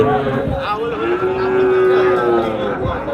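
A heifer moos loudly and close by for over a second at the Sonaichandi cattle market in Chapainawabganj, set against a steady crowd murmur and the shuffling of livestock.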